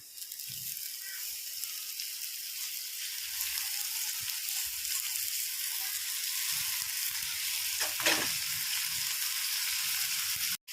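Spinach sizzles in a pan with moong lentils, a steady close frying hiss with occasional soft stirring scrapes and one sharper clatter near the end, no voices.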